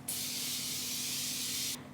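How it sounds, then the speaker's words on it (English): A continuous hiss of Morphe Luminous illuminating setting spray being misted onto a face, one steady close burst lasting under two seconds and heard alone. "Shake this up real good. Spray my face."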